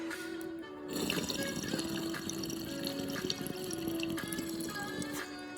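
Water bubbles and gurgles steadily through a Yocan Black vaporizer's water percolator, a soft, continuous close-up burble with faint dripping texture and no talking.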